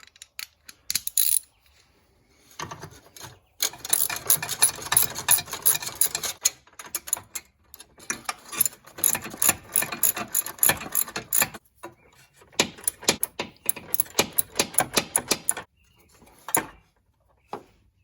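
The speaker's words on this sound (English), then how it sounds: "we're gonna remove the 4 13mm bolts, 2 on the top and 2 on the bottom" A ratchet wrench backs out 13mm bolts from a Pierburg CWA400 intercooler pump on a Hellcat Charger or Challenger. Close, rapid bursts of metallic clicking are broken by short pauses between strokes.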